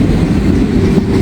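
A local freight train passes near Hamilton as a steady, loud low rumble of rolling railcars that holds at close range for the whole stretch, with no voices.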